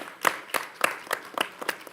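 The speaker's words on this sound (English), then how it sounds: "So let's give a big round of applause to our seniors." Applause at a school board meeting, given for graduating seniors: a steady run of clapping with rhythmic, pulsing bursts from a seated audience, fairly even in loudness and with no talk.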